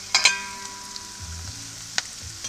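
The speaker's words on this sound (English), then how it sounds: "And I'm going to fry that up." Cauliflower fries in a pan over an outdoor campfire, a faint low sizzle under a couple of sharp metallic clinks and scrapes of the pan and utensil.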